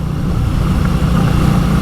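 An Indian Scout Bobber motorcycle with its exhaust removed runs loud and close, a steady, rough, throbbing engine roar with no pauses.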